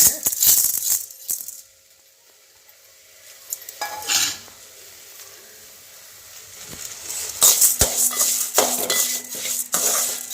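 Washed horse gram dry-roasts in a kadai on the stove: bursts of rattling grains, spoon scraping and light sizzle, with a quieter lull in the middle before the stirring picks up again.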